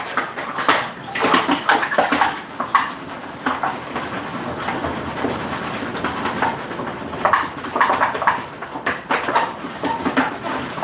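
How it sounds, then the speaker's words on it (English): Items being rinsed under running water from a tap, a close splashing, gurgling stream with uneven bursts as the items move through it. "let me rinse these a bit"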